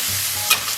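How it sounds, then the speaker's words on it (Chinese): Minced meat stir-fried in a wok with light and dark soy sauce, chili paste and soybean paste, a steady close sizzle with a brief scrape of the spatula midway, no voices. "来点生抽，来点老抽，来勺辣椒酱，来勺黄豆酱，然后反复煸炒"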